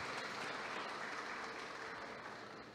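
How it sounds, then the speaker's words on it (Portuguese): An audience at a business awards event applauds to welcome a speaker, a steady wash of clapping from many hands, heard from some distance and slowly fading. "A ele uma salva de palmas"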